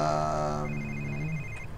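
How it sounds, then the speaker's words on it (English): A phone rings inside the Quantum of Solace video game, a steady electronic tone with layered harmonics that shifts to a thinner, higher beeping pattern before fading. "you want to answer your phone?"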